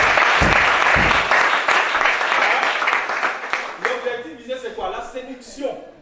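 An audience applauds loudly and continuously at a preaching event, the dense clapping thinning into scattered claps and fading toward the end, with voices heard underneath.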